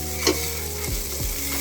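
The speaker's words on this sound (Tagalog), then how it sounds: "Halu-haluin lang natin ng ganyan." Lots of ginger sautéing in a pan as the base for ginataan, stirred so it won't burn: a close, constant sizzle with a couple of scraping stir strokes, and no voices.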